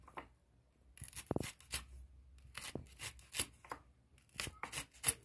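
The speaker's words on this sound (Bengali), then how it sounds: "করলাগুলো এভাবে গোল গোল করে চাকা চাকা করে কেটে নেব।" A knife slices bitter gourd into thin rounds on a board in a home kitchen: a string of soft, irregular cutting thuds and scrapes, close and fairly quiet, with short pauses between bursts of cuts.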